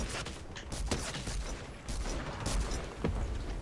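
Rifle shots in a Fortnite match crack out in quick irregular bursts at moderate distance, fairly faint, with brief pauses between firings.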